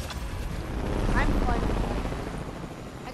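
Helicopter in the Fortnite video game, a steady rotor drone with low thumping under gameplay noise and occasional voice, continuous for a few seconds.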